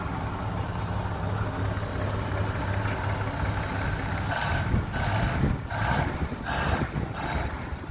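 A 1937 International truck engine runs steadily at idle with a low rumble and mechanical clatter, joined later by rhythmic hissing bursts.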